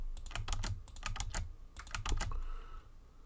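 Computer keyboard keys clack in quick bursts of close, crisp taps during copy-paste shortcuts, pausing briefly midway and ending in quiet.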